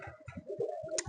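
Pigeons in a pigeon loft coo in short, repeated low pulses, close and clear, with several birds overlapping over about a second.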